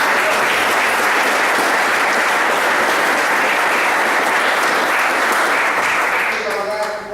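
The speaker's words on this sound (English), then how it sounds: "Give the Infedici a round of applause." A crowd at a gathering in Louisville, Kentucky breaks into loud sustained applause, dense even clapping lasting several seconds before a voice begins to speak as it tapers off.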